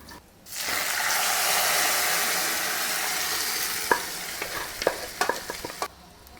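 Loud, steady sizzling as toor dal lentils are added to a frying pan, followed by a few scraping clicks of a spoon stirring near the end, close up with no talking.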